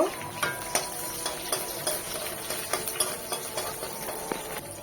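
Onion and chopped garlic frying in a pan, a steady soft sizzle with light irregular stirring scrapes and taps throughout, close and moderately quiet, no voices.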